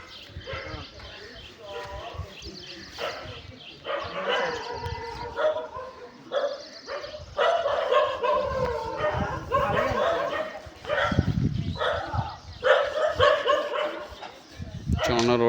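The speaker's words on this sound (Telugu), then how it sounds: "చూడండి రోడ్డు మీద కుక్కలు అయితే మామూలుగా మురుగుతలేదు." Dogs out on a road bark and growl in repeated, uneven bursts close by, with someone talking over them throughout.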